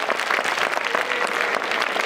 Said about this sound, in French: Une bonne main d'applaudissement pour Caroline